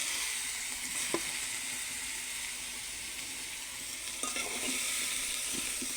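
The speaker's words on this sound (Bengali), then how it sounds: "চিংড়ি মাছ দিয়ে করলা ভাজি। মাটির চুলায় রান্না" Bitter gourd and shrimp frying over a clay stove, a steady bright sizzle running throughout with a few faint clinks of stirring, no voices.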